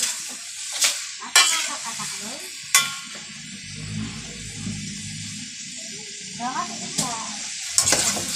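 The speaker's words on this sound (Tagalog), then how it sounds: "hinahalo-halo ko muna" Food sizzles steadily while frying in a pan, with several sharp clinks and scrapes as it is stirred.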